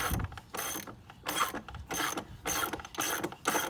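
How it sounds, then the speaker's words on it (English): Rapid ratcheting clicks from a wrench being tightened on pool equipment, sounding in five or six short bursts with brief pauses between strokes, close and distinct, no speech. "when you're pushing on that wrench, you'll feel it get to a point where it'll tighten up"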